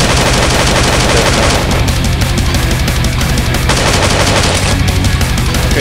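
Loud, sustained automatic gunfire from shooting enemies in the 2D game Slendytubbies 2D Revolution, rapid shots hammering nonstop at close range with no talking.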